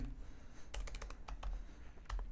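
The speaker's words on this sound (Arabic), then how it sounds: "ندخل لهم هنايا نكتب لهم حسن" Computer keyboard keys are typed in a quick burst of close, crisp clicks while filling in a MediaFire registration form, with no talk over them.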